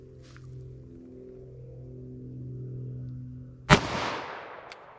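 A single sharp gunshot from a Smith & Wesson 610 revolver firing 10mm ammunition at an outdoor range, loud and close, with a short decaying tail after a stretch of low background hum.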